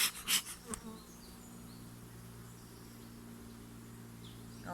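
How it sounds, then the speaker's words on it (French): Agitated honeybees at an open hive, a continuous steady drone close by, opening with a few sharp knocks or handling noises before settling into even buzzing. "les abeilles me paraissent un petit peu énervées"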